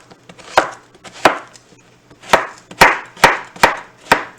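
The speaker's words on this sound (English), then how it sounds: "put them both down on their face, and then just slice as you would just straight up" Sharp knife strokes cut straight down through onion on a cutting board for a chicken curry meal. Roughly eight close, distinct chops come in a loose, fairly steady rhythm, with no voices over them.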